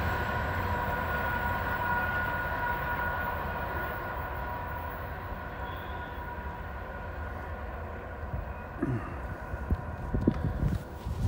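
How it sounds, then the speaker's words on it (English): A train rumbles steadily past in Sadieville, a heavy continuous roar with a faint high whine, easing slightly before some closer knocks and rustles near the end. "Wow, I just got up here and that train came."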